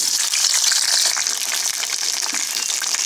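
Chopped brinjal pieces hitting hot oil in a pan for a gongura tomato chutney, giving a loud, steady, broadband hiss of frying that holds evenly throughout with no talk.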